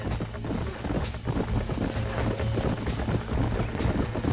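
Horse hooves galloping in the Western video game Red Dead Redemption, a loud, close, rapid clip-clop rhythm that runs continuously without talk.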